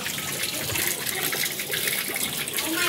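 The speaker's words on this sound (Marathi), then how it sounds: "इकडे मशीन झालेली आहे आपली. ड्रेन करूया पाणी, करून सगळं पाणी." A washing machine drains its water in a steady, close rushing gush that holds at an even level throughout, with no one speaking.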